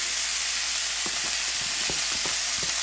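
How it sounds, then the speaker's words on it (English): Ground beef with onions and seasonings fries in a pan with a loud, steady sizzle, broken by several soft scraping stirs partway through. "we're going to add in our onions and our seasonings to our ground beef"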